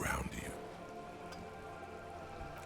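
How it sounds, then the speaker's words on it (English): Steady rain falling on wooden boards and surrounding water in the Disco Elysium video game, a dense, even patter with a brief louder burst at the start, continuous and moderately quiet. "All around you, rain keeps falling down. On the wooden boards she's standing on, and on the water around you."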